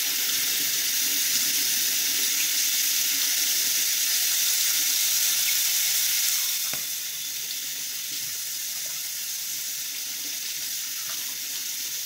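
Water shaken and sloshed through a foaming soap pump bottle makes a steady hissing, rushing wash that drops to a softer trickle partway through, close and continuous with no talk.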